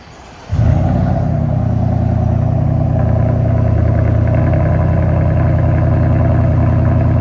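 A 2024 Ford F-150 5.0L V8 with a Flowmaster Outlaw exhaust fires up and settles into a loud, deep, burbling idle, steady and close with no talking.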